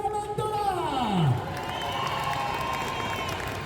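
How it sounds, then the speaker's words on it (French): Audience at a Paris Manga 2023 convention panel welcoming guest Tony Amendola: a voice briefly at the start, then a steady wash of crowd applause and cheering that fills the room and holds at an even level. "applaudissements pour Tony Amendola"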